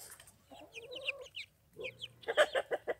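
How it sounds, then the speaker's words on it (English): Backyard chickens, including buff Brahmas and black hens, cluck close by in a series of short, sharp, rhythmic clucks and squawky calls with brief pauses. "It's basically just a black chicken, just like those guys out there."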